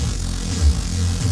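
Dry, unprocessed Reese bass from a Hardware Bass 2.0 synth, a thick low sustained drone with gentle phasing movement, playing alone for just over a second.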